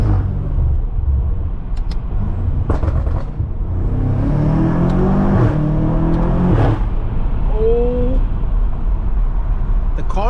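A 700 hp BMW F90 M5 Competition engine revs and pulls hard on a cold road, a loud, steady cabin drone rising in pitch with gear changes while a person talks over it.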